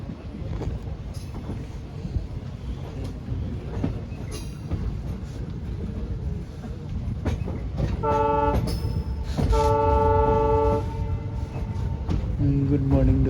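A train runs steadily with continuous rumble and rattle, then sounds its horn in several loud tonal blasts near the end, on a trip from Guwahati.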